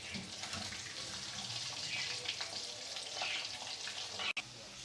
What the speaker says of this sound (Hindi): हमने फ़िश को फ्राई कर लिया है